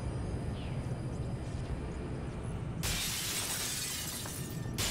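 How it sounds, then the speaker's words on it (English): Glass shatters in the video game Halo 3 on the Crow's Nest level, a sudden bright crash that cuts in partway through over a low rumbling in-game background and then rings on. "Satisfying glass breaking noises."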